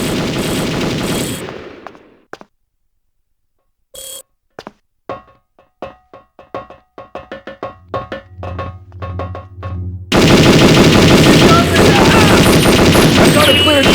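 Machine gun fire in the Perfect Dark video game: a loud burst opens, then after a quiet gap come scattered single shots that quicken into a rapid volley and end in a sustained, dense roar of automatic fire.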